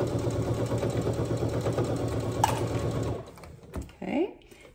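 A sewing machine stitches a seam on a drawstring backpack, running steadily and fairly loud for about three seconds before stopping, followed by a few quieter handling sounds as the fabric is shifted.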